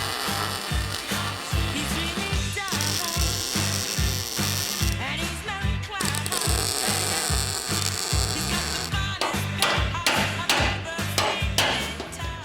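Metal roof of a 4WD ute being flattened along the gutter with rapid, evenly spaced hammer blows on sheet metal, loud and close, continuing steadily throughout with a few sharper strikes near the end.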